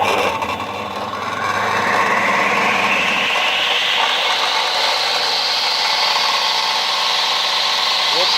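A stone-cutting machine's motor starts up and winds to a rising whine, then holds a loud, steady run with a rough mechanical rasp underneath.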